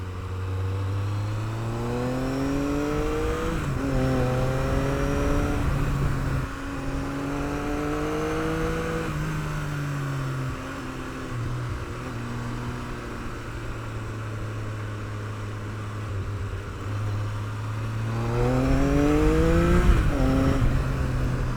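A Triumph Daytona T595 motorcycle ridden slowly in first gear, its engine droning close and loud with repeated rising revs and gear changes as the throttle is blipped, and a louder surge of acceleration near the end.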